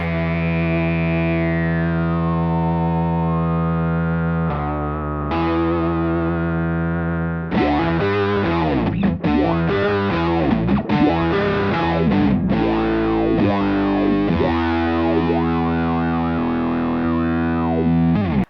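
Guitar run through a Beetronics Zzombee Filtremulator in ramp mode: a held, heavily distorted chord sweeps and shifts, then loud strummed passages with swelling, wobbling filter movement fill the rest, steady and up close.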